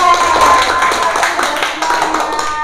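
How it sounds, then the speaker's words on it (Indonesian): Clapping from a group at a teacher training session after a role-play presentation, brief and moderately loud, with some tonal background hum and room noise mixed in. "Tepuk tangan dulu buat kita semua."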